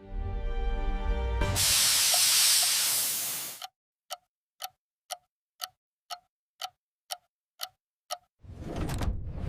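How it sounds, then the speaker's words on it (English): Bananas are sprayed in a ripening mist chamber at a large factory, giving a loud, steady hissing burst of mist lasting about two seconds, followed by a series of sharp, evenly spaced ticks. "The fruit enters a mist chamber to ensure perfect ripeness and sweetness."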